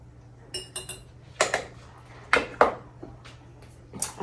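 A teaspoon of salt spooned into glass quart jars: a series of sharp, close clinks of metal against glass, spaced irregularly, with no talk.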